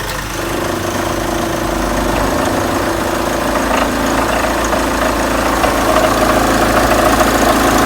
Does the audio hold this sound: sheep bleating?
no